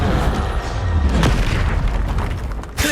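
A Confringo fire spell bursts in Hogwarts Legacy, making a loud, rumbling explosion that roars for several seconds before a sharper burst near the end.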